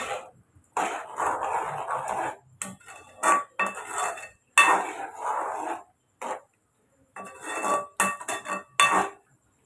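Repeated metallic scraping of a spoon stirring a mutton liver dish in a pan, in irregular bursts separated by short pauses, close up.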